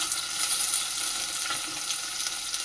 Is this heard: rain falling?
no